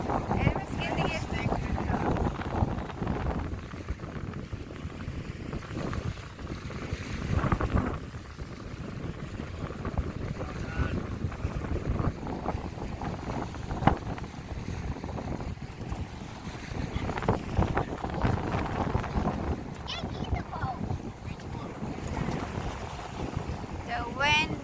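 Strong wind buffets the microphone at a beach, a steady low roar with gusts, with waves in the background and people talking intermittently.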